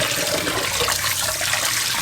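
Mutton liver is rinsed under an open kitchen tap, with water gushing and splashing steadily and loudly throughout, no voices.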